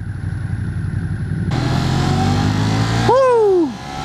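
Ducati Monster 1200R engine builds through a steady growl, then surges louder with a rising rev before a sharp pitch drop and a quick fade as it pulls away, heard close and loud.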